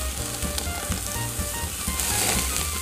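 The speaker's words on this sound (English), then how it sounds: "So what I'm going to do is flip each steak" Steaks sizzle loudly over a flame, a dense continuous crackle with low thumps and shifting bursts as the meat is flipped, close-up with no voices.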